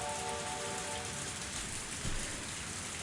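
Steady, dense rain falls in a forest in the visual novel Higurashi When They Cry Hou, a loud continuous hiss with no breaks or voices.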